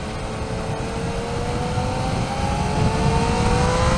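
A 2019 Yamaha Niken three-wheeled motorcycle engine pulls steadily through the gears on the road, its droning tone climbing and growing louder over the whole stretch, with wind noise and no talking.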